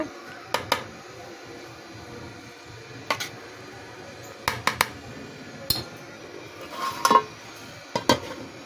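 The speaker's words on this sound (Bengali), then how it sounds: "পোলাও হয়ে গেছে, এখন মাংসগুলো ঢেলে দিচ্ছি। ঢেলে দিয়ে নাড়াচাড়া করবো, দমে রাখবো।" A spoon scrapes and clinks against a pot while chicken meat and cooked pilau rice for biryani are stirred together, sharp metallic knocks scattered irregularly over a quiet kitchen background.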